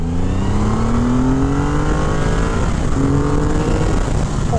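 A 2023 Triumph Rocket 3 GT with its 2500 cc engine accelerates hard, a loud close engine roar climbing steadily in pitch through the gears with a brief shift dip, over rushing wind noise.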